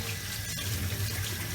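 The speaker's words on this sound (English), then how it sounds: "So what we need to do is just run some cold water" Cold water runs from a kitchen tap over jarred vine leaves being rinsed of brine, a steady close splashing stream into a container, with no talk.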